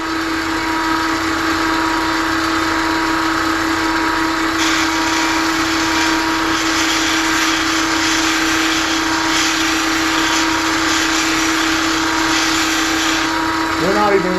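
A skew paring chisel held against a bench grinder gives a steady, loud mechanical whine with a continuous grinding rasp. The rasp gets brighter and denser partway through and keeps going without a break the whole time.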